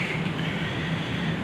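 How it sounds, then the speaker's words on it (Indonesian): A Soekarno-Hatta airport skytrain, an elevated train, arrives with a steady rumbling drone and a broad hiss, loud and continuous throughout, with no clear speech over it. "Oke, ini kita lanjut naik kereta layang ya nih."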